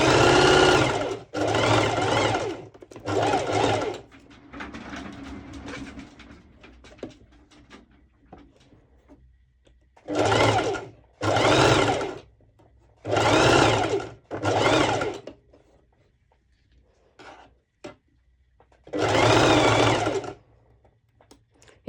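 A sewing machine stitches a cropped top with a heart cut-out, running close along the fabric edge in several separate bursts of a second or two each, with quiet pauses between them.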